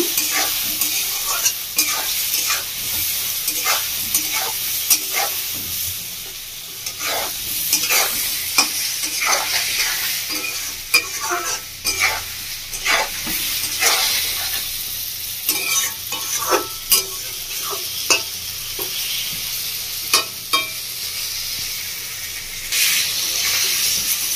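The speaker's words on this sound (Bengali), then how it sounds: "ভালো করে বাটাটা ভেজে নেব।" Spice paste with Kashmiri chilli powder fries in a pan for doi potol, a steady close sizzle broken by frequent scraping stirs for about twenty-four seconds.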